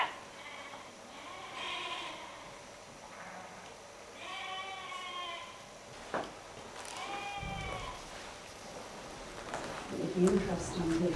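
Sheep bleat repeatedly at Woodhouses Bastle in Northumberland, several wavering calls spaced a few seconds apart, with people talking faintly in the background.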